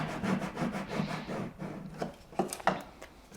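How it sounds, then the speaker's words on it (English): Transfer tape being burnished onto an acrylic key chain, giving soft repeated rubbing and scraping strokes at close range, with a few sharper taps toward the end. "I'm just going to pop over the transfer tape, burnish that so it sticks on."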